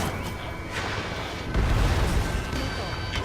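In the video game Ace Combat 7, a missile launches amid explosions. Deep rolling rumbles and a heavier boom midway sit under radio voices.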